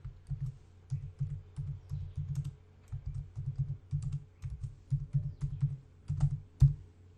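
A computer keyboard is typed on steadily while a full name is entered into a spreadsheet cell, soft close clicks in quick clustered runs with brief pauses and one sharper key press near the end.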